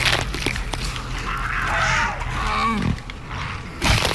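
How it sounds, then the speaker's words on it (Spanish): A wolf in the video game Far Cry Primal gives a close, rough snarl with a rising and falling growl that swells for about three seconds and then cuts off, over a loud, dense game soundscape with no talk. "Es muy fuerte el lobo"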